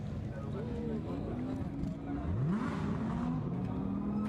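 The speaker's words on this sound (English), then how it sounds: "So the cars set away on the formation lap, down towards turn 1" GT2 race cars of the Fanatec GT2 European Series, including an orange KTM, roll off on the formation lap toward turn 1, engines droning and revving steadily while a commentator talks over them.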